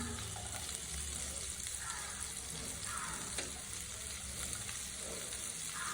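Chopped onion frying in a pan for a mashed aubergine bharta, a soft continuous sizzle with faint stirring, fairly quiet and steady throughout, no talk.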